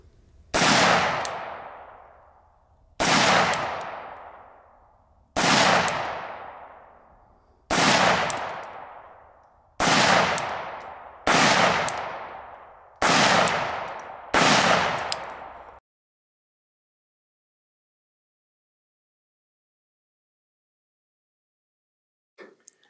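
Rifle shots from a DD Mk12, V7pro and DPMS barrel-heating test fire at 50 meters as eight loud, sharp reports at steady intervals of about two seconds, each ringing out and decaying, then silence.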